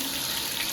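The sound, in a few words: rain shower head running water into bathtub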